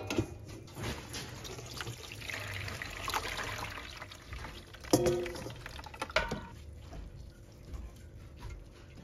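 Softened rice vermicelli being drained, with water pouring and trickling off in a steady flow, a few louder splashes and drips partway through, close and fairly quiet.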